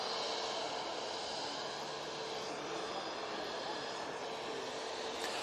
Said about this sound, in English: It's the A320neo off to Mahon.